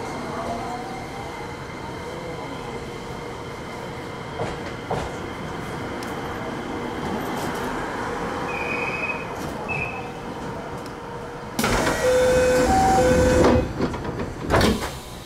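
A local train on the Kabe Line pulling out of the station, with steady rolling rumble and wheel noise throughout and a louder burst of rail clatter and squeal near the end.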